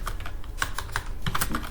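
Steady keystrokes on a computer keyboard while HTML is written, a close, continuous patter of clicks at an uneven rhythm with no voices over it.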